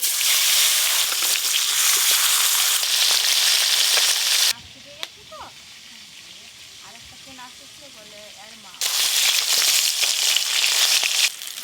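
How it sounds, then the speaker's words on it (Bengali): River fish sizzle loudly in hot oil, the frying cutting out for several seconds mid-way, where quieter clatter and faint voices are heard, before the full close-up hiss returns. "যা আছে আর 2 বার ভাজলেই সব ভাজা হয়ে যাবে"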